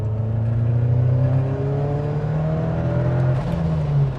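A Ford Sierra RS Cosworth engine drones steadily and rises in pitch as the car accelerates through a gear, heard from inside.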